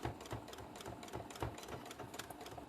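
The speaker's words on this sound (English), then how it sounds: "definitely going to do stitch forward and back" A sewing machine stitches forward and back across a Santa appliqué for a book cover, its needle running in a quick, steady rhythmic whir close by with no speech.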